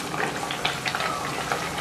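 Athirasam, a rice sweet, frying in hot oil, giving a steady close bubbling sizzle with small popping bursts throughout, no voices.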